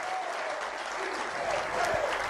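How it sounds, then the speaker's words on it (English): Faint, steady applause from a political rally crowd in Argentina, a continuous wash of clapping heard at a distance without speech. "and then there's applause"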